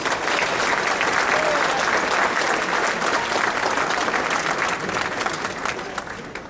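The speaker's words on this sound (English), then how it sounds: "So please give a round of applause to those individuals." An audience at a 2012 scholarship awards ceremony breaks into sustained, dense applause that holds steady, then slowly tapers toward the end.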